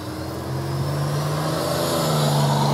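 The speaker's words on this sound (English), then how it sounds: "that loud car, he just intentionally sped up" A car engine drones and rises steadily in pitch and loudness as it accelerates nearby, with no voices.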